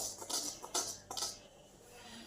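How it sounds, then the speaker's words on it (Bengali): A few quick clinks and scrapes of a utensil against a bowl while beguni batter is mixed with water, close and fairly quiet, then fading out. "এবার অল্প অল্প জল দিয়ে একটা ব্যাটার গড়ে রেখে দেব"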